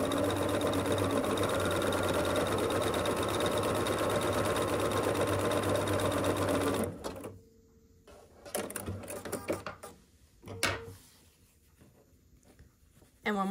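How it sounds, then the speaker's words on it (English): A sewing machine runs loud and continuous for several seconds, stitching half-square triangle quilt blocks along the long diagonal, then stops, leaving scattered handling noises and fabric shuffling. "I'm going to sew on the long diagonal"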